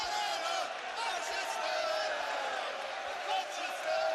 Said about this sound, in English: Noisy celebrations all around us.